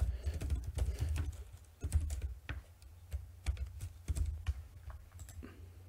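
Quick, irregular bursts of clicking keystrokes on a computer keyboard, close and fairly quiet, with short pauses between runs of typing.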